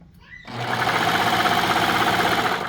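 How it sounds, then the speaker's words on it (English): A Brother 1034DX serger straining on thick spandex runs in a loud, steady mechanical whir with a pulsing, whining edge, starting abruptly after a brief quiet moment and continuing without talk. "So it'll sew really good for a second, and then hit a spot and whine out."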